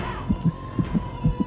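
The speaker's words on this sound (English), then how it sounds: "Every time you get hit, your heartbeat accelerates." A game heartbeat from Sanitarium thumps in steady double beats, lub-dub pairs repeating three times over a low hum, close and moderately loud.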